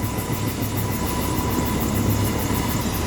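Steady, loud rotor and engine roar of a nearby helicopter on Phelps Mountain in the Adirondacks, a continuous thrumming wash with no voices.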